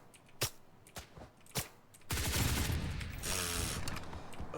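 Automatic gunfire in the game Blackhawk Rescue Mission 5: a few sharp single shots, then about two and a half seconds of sustained, loud rapid fire with mechanical rattle.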